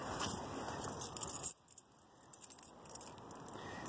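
A bunch of keys jangling close up, a dense metallic rattle for about a second and a half, then quieter scattered clinks as the keys settle.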